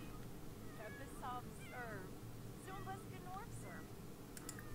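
A cat meowing in The Sims 4 video game: several short, plaintive meows in quick succession over a constant background hum, with faint voices talking.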